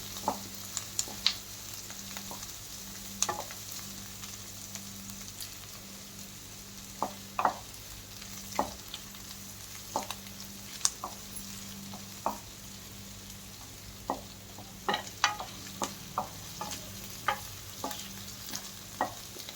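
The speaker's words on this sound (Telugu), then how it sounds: "పచ్చిమిర్చీలను కూడా వేసి వేయించాలి" Green chilies frying in oil for spicy tomato rice, a low steady sizzle broken by repeated sharp clicks and scrapes of a spatula against the pan.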